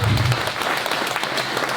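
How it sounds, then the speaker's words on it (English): A crowd at a boat meet and greet at a boatworks claps briefly, a close, busy patter of hands over a short low voice at the start. "Give a big round of applause to Charmaine, the Boatworks company here."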